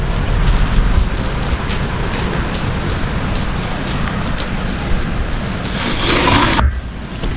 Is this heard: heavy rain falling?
yes